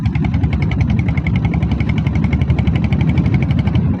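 A diesel Royal Enfield Bullet motorcycle with a 7.5 HP self-start engine runs steadily and close by, its low, even thumping beat continuing throughout.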